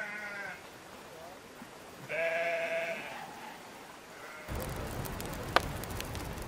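Sheep bleat in a few separate, wavering calls, moderately close, followed by a rougher stretch of outdoor noise and a brief click, in the Tusheti mountains of the Caucasus among shepherds' flocks.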